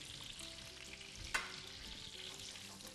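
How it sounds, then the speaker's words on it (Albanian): Shredded kadaif pastry frying in hot oil in a kitchen, a soft continuous sizzle and bubbling at low level, with a brief sharp clatter midway and no voices. "I skuqim mirë, ha? Duhet të skuqen mirë."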